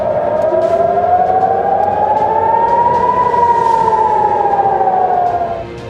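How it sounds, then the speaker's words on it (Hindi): Air raid alert sirens in Tel Aviv wail loud and sustained, one long rising and slowly falling tone over a rumbling background, with no talk. "इजराइल के तेल अवीव में अलर्ट के सायरन भी सुनाई दे रहे हैं।"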